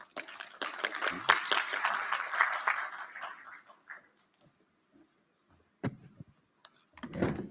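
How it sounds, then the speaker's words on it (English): Audience applause at the Basic Education Sector Lekgotla, a dense burst of clapping for about four seconds that fades out, followed by near silence with a few isolated knocks and a short noisy rustle at the end. "Shall we give her a round of applause?"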